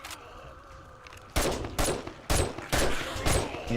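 Gunfire in the 7 Days to Die survival game: after a quiet stretch, loud bursts of rapid shots break out, roughly five volleys in quick succession.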